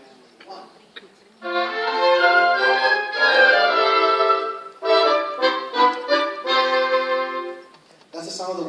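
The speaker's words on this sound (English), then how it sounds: "So here is the sound of the woodwind section." An orchestra's woodwind section playing together in sustained, harmonised lines, with a brief pause midway before the ensemble resumes with shorter phrases.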